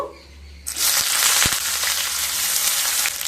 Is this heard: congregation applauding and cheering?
no